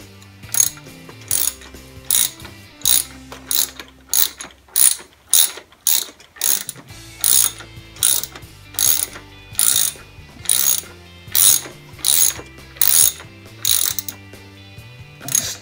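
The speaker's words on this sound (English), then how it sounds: "start cranking away with the ratchet" A hand ratchet tightens the front wheel nut on a TaoTao DB14 110 dirt bike during assembly, clicking in a steady run of quick bursts with a short pause midway, loud and close with no talk.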